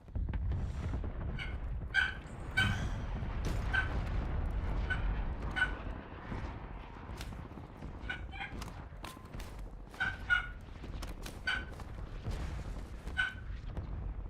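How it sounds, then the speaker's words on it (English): Miniature dachshund barking in a home during a game livestream, a string of sharp, high yaps at irregular intervals, some doubled, moderately distant and fairly quiet under a steady bed of game noise and background rumble. "Now you can hear my dog."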